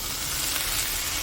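Dry canned potatoes fry in butter in a pan with a loud, close, continuous sizzle. The crackling hiss holds steady throughout the short moment with no talking.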